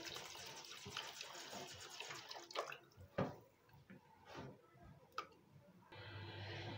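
Pieces of fish being rinsed by hand in a bowl of water, with faint sloshing, drips and small splashes at close range and a brief clunk midway.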